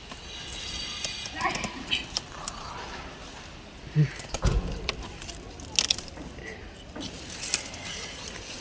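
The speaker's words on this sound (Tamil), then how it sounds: "இப்போது நம்ம கரும்பு கட் பண்ணி எடுக்க போகிறோம்" A sugarcane stalk is cut on a natural-farming balcony garden, giving scattered crunching snaps and rustles at close range, with a louder crack partway through and some rattling of leaves, with no voices.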